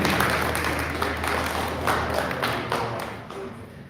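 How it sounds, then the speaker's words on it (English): An audience at an immigration summit applauds steadily, a dense patter of many hands clapping in a hall that gradually tapers off. "Ladies and gentlemen, please give a round of applause to Jamene."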